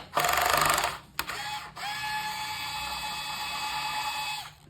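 A small electric screwdriver whines steadily while releasing the tonearm bracket screws on a Technics SL1200 turntable, a close high-pitched motor tone in two bursts separated by a sharp click.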